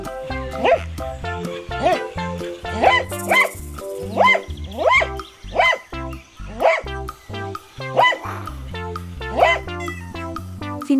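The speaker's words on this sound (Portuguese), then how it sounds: "Os cães produzem uma variedade de sons diferentes, desde os latidos até os uivos." Several dogs bark and yip in quick repeated bursts, with rising howl-like whines mixed in, close and busy throughout.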